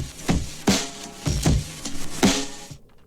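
Processed, sampled trip hop drum break: punchy kicks and crisp snare hits in a slow, loping groove, loud and upfront, cutting off abruptly just before the end.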